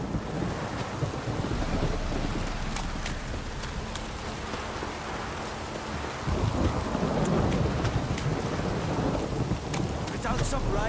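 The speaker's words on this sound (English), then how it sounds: "This downpour's a bastard, it is." A thunderstorm in The Witcher 3 brings heavy rain as a dense, steady hiss with gusty wind, while low thunder rumbles and swells louder in the second half.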